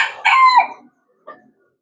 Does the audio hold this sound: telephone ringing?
no